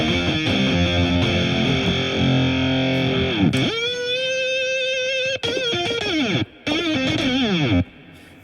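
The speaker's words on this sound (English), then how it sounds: "the noise box is our own distortion effect" Software synthesizer guitar through a distortion effect plays a loud, continuous rock riff of sustained distorted chords and bending notes, with brief drops between phrases and no voices.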